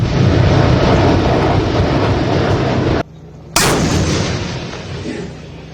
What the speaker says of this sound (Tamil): பீரங்கிகள், டாங்கிகள் மூலம் போர் பயிற்சியில் ஈடுபட்ட ராணுவ வீரர்கள்.